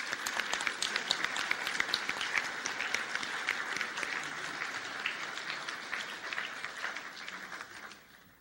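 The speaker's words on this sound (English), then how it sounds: "let's give them a round of applause" Sustained round of applause from a Rotary Club lunch audience in Toledo honoring visiting students, dense steady clapping throughout that fades slightly toward the end.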